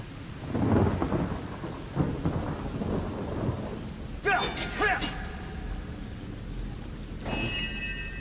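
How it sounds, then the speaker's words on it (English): Rain spell cast in the Divinity Original Sin video game, a steady patter of rainfall with rolling thunder rumbles and a few sharp cracking bursts, loud and continuous with no talking. "We're gonna cast rain on ourselves."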